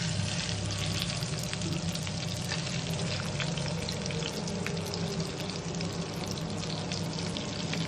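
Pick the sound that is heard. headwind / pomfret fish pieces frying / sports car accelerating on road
pomfret fish pieces frying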